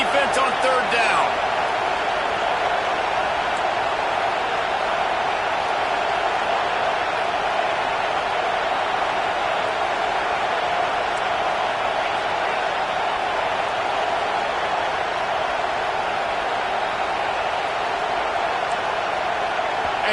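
Loud, steady roar of a big stadium crowd at a college football game, Michigan's defense on third down in College Football 26, holding as one dense wall of noise for the whole stretch.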